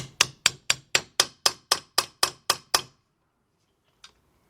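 A hammer taps a socket set over an engine valve seal on a 2003 Jeep Liberty Sport 3.7 during a partial rebuild: ten sharp, evenly spaced metallic strikes close by, then a pause and one lighter tap.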